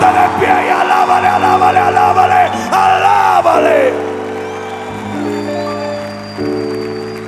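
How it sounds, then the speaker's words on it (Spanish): A large church congregation shouts, whoops and cheers in loud praise for several seconds, the roar thinning toward the end as sustained organ or keyboard chords ring underneath. "Alguien dé un grito de gloria y ponte de pie."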